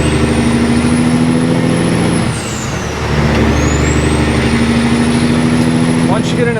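A semi truck's engine drones loud and steady under throttle, dipping briefly midway before building again, with a high whine sweeping above the rumble.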